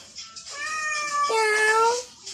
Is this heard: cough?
no